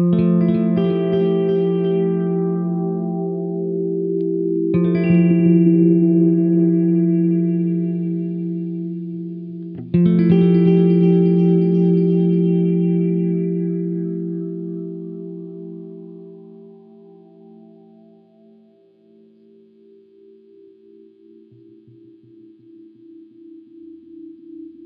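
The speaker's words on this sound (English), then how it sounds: "Mode 4 takes those repeats and lets you run them through a resonant filter." A Catalinbread Belle Epoch Deluxe delay pedal in mode 4 sends its repeats through a resonant filter, giving three loud sustained tonal notes that swell and decay into a long fading tail, with no voices.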